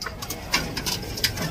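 Soft tippler pigeon cooing in a few low, breathy pulses, fairly close against a steady background hiss.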